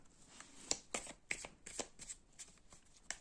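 Tarot cards shuffled by hand for a reading, a quick series of crisp riffling flicks and slaps, close and quiet with no talking.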